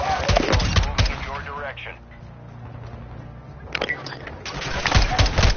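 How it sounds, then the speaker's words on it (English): Gunfire rattles in Call of Duty: Modern Warfare 2, with sharp bursts of shots in quick clusters at the start and again near the end, mixed with in-game voices and a player talking over the action. "You are taking effective fire."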